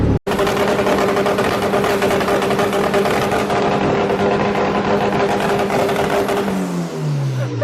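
A Honda Civic engine fitted with an eBay turbo runs hard on a dyno, a loud, sustained roar that holds steady and then winds down in pitch at the end.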